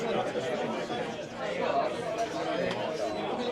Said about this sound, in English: a good variety of walla from people in crowds.